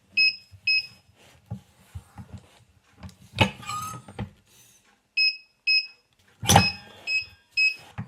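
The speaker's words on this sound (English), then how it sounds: "The machine's beeping, just let me know it's at temperature." A heat press machine gives several short, clear electronic beeps in pairs and small groups, separated by quiet gaps. Louder bursts of handling noise come between them.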